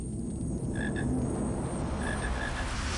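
A chocolate frog in the Harry Potter and the Philosopher's Stone PC game croaks in short, repeated pulses over a steady hum of game ambience, with no voices.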